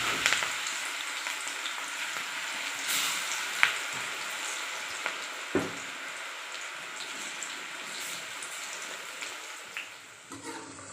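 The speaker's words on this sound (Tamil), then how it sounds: "இதே மாதிரி மீதி இருக்க எல்லாத்தையும் நம்ம வந்து பொரிச்சு எடுத்துடலாம்." Drumstick leaf (murungai keerai) pakoda deep-frying in oil gives a continuous bubbling hiss dotted with small pops and crackles, close and steady, easing slightly near the end.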